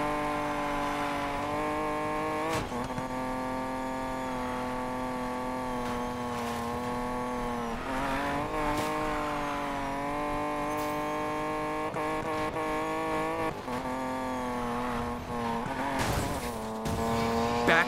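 Race cars in Need for Speed Payback roar loudly and steadily throughout, engines holding a sustained high whine with shifts in pitch and brief tire squeals and skids mixed in.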